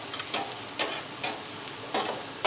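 Brussels sprouts fry on a flat griddle top, sizzling steadily while a utensil scrapes and stirs them in several short, sharp strokes, close and alone with no talk.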